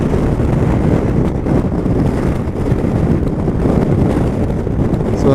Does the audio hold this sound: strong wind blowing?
yes